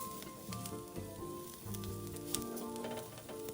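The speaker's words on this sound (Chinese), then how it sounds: "油热后，将备好的蒜末倒入锅内，与菜脯一起爆香。" Minced garlic and preserved radish frying in hot oil in a wok, a continuous close sizzle with some stirring, under faint background tones.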